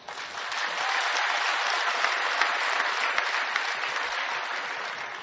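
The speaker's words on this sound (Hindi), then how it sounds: "एक बड़ा मुशायरा हर साल और इतनी कमजोर तालियां" Audience applause at a large annual mushaira poetry gathering in Firozabad: steady, dense clapping from a crowd, moderately loud and sustained evenly throughout with no voices over it.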